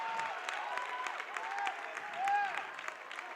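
A girls' basketball sectional crowd in a gym responding to an offensive foul call, a faint wash of clapping and murmuring voices with a squeak or whistle-like tone partway through, distant and low in level.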